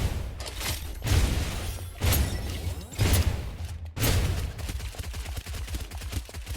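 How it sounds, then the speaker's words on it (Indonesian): Video game gunfire in several heavy bursts roughly a second apart, each with a booming low thump and crackling tail, followed by denser rapid shots, loud and close with no talking. "biarkan dia nembak"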